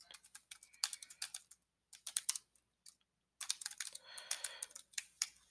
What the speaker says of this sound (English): I start typing on the keyboard, it will actually enter in text.